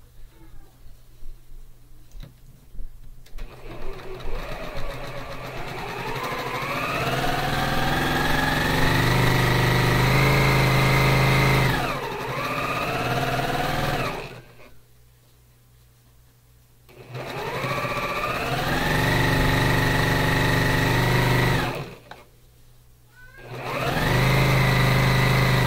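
A sewing machine stitching down the center of fabric for a quilt sew-along runs in three steady, sustained bursts separated by brief pauses, loud and close with a whirring motor hum.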